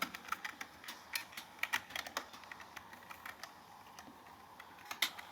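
Someone types code on a computer keyboard, producing quiet, irregular key clicks in short bursts with small pauses between them.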